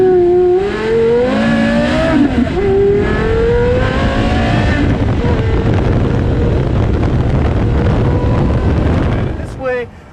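Porsche Carrera GT engine revving hard under aggressive driving, loud and close, with rising and falling harmonic pitch sweeps through gear changes for most of the stretch before cutting off near the end, wind buffeting throughout.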